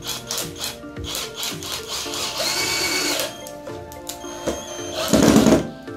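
A power drill drives short screws into a wooden ottoman being built as a storage chest, giving a few whirring bursts with a louder, harsher burst near the end, and no talk over it.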